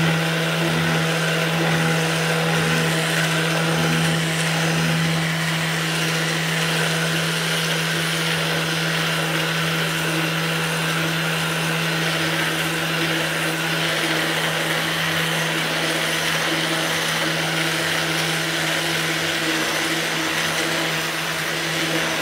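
An electric buffer with a pad set over a shop towel hums steadily at close range while applying a cold wax finishing coat, a constant motor whine with no break throughout.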